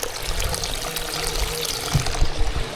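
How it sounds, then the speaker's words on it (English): Boiling-hot spring water gushes from a rock face and splashes steadily in a continuous rushing pour, close and moderately loud, with no voices. "you've literally got a hose of water just coming out of a rock face"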